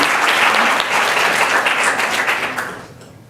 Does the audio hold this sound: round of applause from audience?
yes